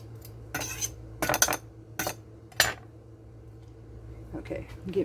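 Garlic being crushed and minced in a press, four or five sharp bursts of metallic crunching and clacking separated by short pauses, close, with quiet stretches between.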